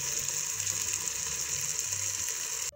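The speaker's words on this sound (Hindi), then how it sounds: "इसको 2 से 3 मिनट के लिए ऑयल के अंदर फ्राई करेंगे" Black lobia beans frying in hot oil give off a steady, even sizzle with faint crackles, holding at one level close by for nearly three seconds before it cuts off abruptly.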